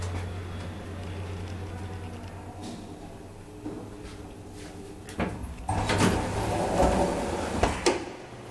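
A 1990 Bonavolontà roped hydraulic elevator in Italy has a fast telescoping door that slides with a steady mechanical hum, then a louder rattling rush and clunks as the panels move and stop.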